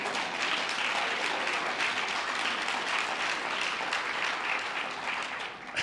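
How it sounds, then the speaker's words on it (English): Steady applause from a crowd at a mayor's State of the City address holds as a dense, even wash of clapping for several seconds, then dips slightly near the end. "I think we can guess who started that applause"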